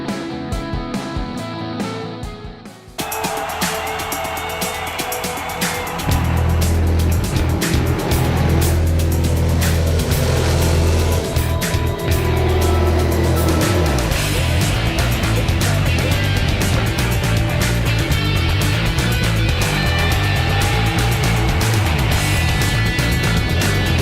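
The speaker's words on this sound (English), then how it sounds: "What a sight it is here from high above the Weedsport Speedway as the 32-car field is now" Race cars roar around the dirt oval at Weedsport Speedway, a 32-car field heard from high above as a dense, continuous engine drone that swells after a brief quieter start and stays loud throughout.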